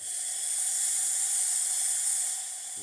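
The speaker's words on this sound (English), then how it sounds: "This is the steamer." A La Pavoni espresso machine's steam wand, with no basket or portafilter fitted, hisses in a steady broad rush for nearly three seconds, close and fairly loud, then eases slightly near the end.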